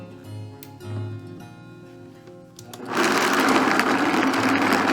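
A blender starts slow, then jumps to a loud, steady high-speed whir grinding organic almonds for homemade almond milk off-grid, with a quieter motor hum before the surge.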